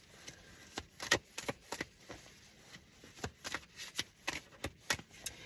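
Tarot cards being shuffled for a general reading, a series of soft riffling bursts and taps in an uneven rhythm, close and quiet, with no one talking.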